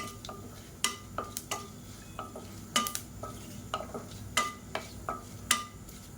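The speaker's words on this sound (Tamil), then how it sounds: "எல்லாத்தையும் நல்லா வறுத்துக்கலாம்." Whole spices and fennel seeds fry in hot oil in a pan, with a steady soft sizzle under repeated sharp metallic clinks and scrapes of a spoon stirring against the pan, close and fairly quiet with no talking.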